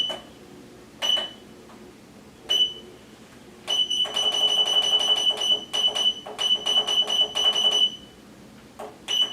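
A heat press gives a few single high beeps, then bursts of rapid repeated beeping, loud and close, with no voices.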